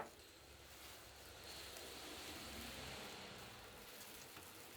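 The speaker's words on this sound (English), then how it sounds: "I just hear the drizzle of the rain on the carport roof" Soft, steady patter of light rain drizzling on a carport roof, a continuous quiet wash of tiny drops with no voices.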